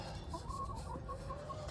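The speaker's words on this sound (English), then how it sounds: "very thankful for these chickens" Chickens cluck softly in short, scattered bursts over a low background rumble.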